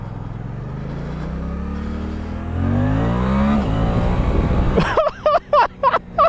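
A 2023 Suzuki GSX-8S motorcycle accelerates hard on power without the clutch, its engine note climbing steadily and loudly up through the revs, then breaking into short bursts as the throttle chops at the end.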